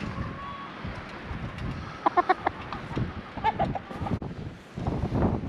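Backyard flock of chickens clucking in short bursts and a few sharp calls, fairly close, over gusting wind noise on the microphone.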